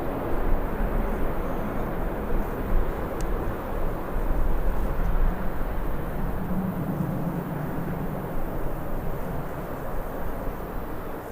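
A Ryanair airliner arrives to land at Birmingham airport as a steady, distant engine rumble with broadband wind-like hiss. The sound holds fairly even throughout, with no speech over it.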